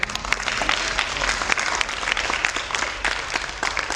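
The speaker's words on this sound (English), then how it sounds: "give applause to the people behind you" An audience in a school auditorium at a swim team awards night claps for the team's supporters, a steady, full round of applause with crisp individual claps throughout.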